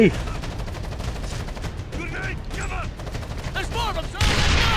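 Bursts of rapid gunfire crackle through the clip in the game Tom Clancy's Ghost Recon Advanced Warfighter 2 on PS3, with a few brief voice-like fragments in between and a denser volley near the end.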